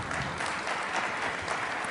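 Audience at a debate breaking into brief, dense applause, a steady wash of clapping from a large crowd heard alone for under two seconds.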